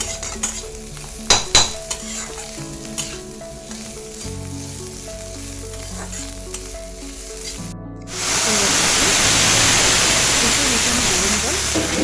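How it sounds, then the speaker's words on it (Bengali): Basanti pulao rice sizzles loudly as it fries in a pan, a steady bright crackle from about eight seconds on, with lighter clinks and scraping of stirring before it. "একটু নেড়ে নিতে হবে যেন তলা না ধরে যায়, তাই বারবার নাড়তেই থাকতে হবে।"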